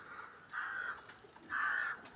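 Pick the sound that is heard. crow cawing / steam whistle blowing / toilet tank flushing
crow cawing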